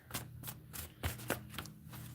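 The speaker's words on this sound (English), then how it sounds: "Shuffling for Capricorn." Tarot cards are shuffled up close in a quiet room, making a series of soft, rhythmic riffling snaps about every quarter second.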